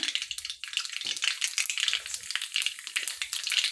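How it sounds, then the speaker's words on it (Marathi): Mustard seeds crackle and pop in hot oil, a dense, fairly quiet spatter of crisp sizzling bursts continuing steadily throughout, with no voices. "मोहरी तडतडली की त्यात जिरे टाकून घ्या"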